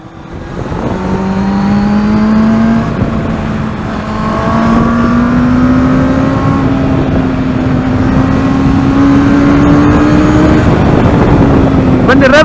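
A Benelli TNT 600 GT motorcycle engine revs steadily while riding, its pitch climbing gradually under loud, continuous wind rush for the whole stretch.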